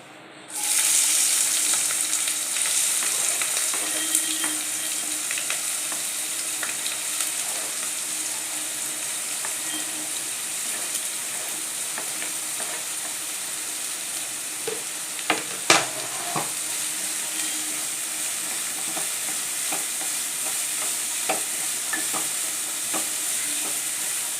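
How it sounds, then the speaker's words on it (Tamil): Chopped onions fry in hot sesame oil in a kadai for a Tamil egg poriyal, producing a continuous close sizzle with stirring clatters and a couple of sharper knocks, no speech. "இப்போ எண்ணெய் சூடாகிடுச்சு நம்ம வெங்காயத்தை சேர்த்துக்கலாம்"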